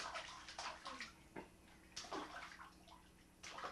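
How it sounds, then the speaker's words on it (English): Child splashing in a bathtub, faint intermittent sloshing and water slaps in short bursts, quiet and close, with no talk. "You splashing in the bathtub?"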